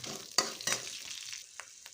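Dried chillies, curry leaves and seasoning seeds sizzle in hot oil while being stirred, with a couple of sharp spatula scrapes over a steady frying hiss, close and fairly quiet.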